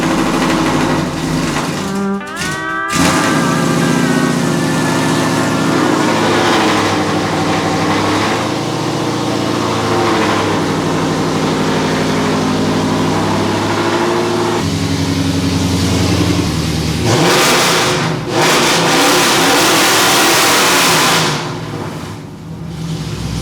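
An untuned Dodge Challenger V8 with a leaking valve cover idles loudly up close with a choppy, uneven rumble, rising into several revs and falling back, with no talk over it.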